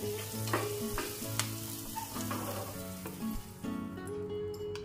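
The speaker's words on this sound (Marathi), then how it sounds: "त्यामुळे मी वाटाणा हा फ्राय करून घेते." Green peas frying in a pan for matar paneer, a steady close sizzle with occasional stirring scrapes and clinks throughout, no talking.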